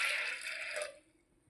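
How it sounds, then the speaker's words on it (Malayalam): Water poured into a pressure cooker holding a cup of green gram: a steady splashing pour for under a second that tapers off into quiet. "ഇനി വേകാൻ ആവശ്യത്തിന് വെള്ളം ഒഴിച്ചു കൊടുക്കാം."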